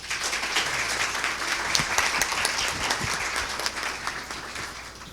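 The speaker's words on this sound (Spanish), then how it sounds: "Lo recibimos con un hermoso aplauso." An audience at an academic tribute event gives a steady round of applause to welcome a speaker, dense and even throughout.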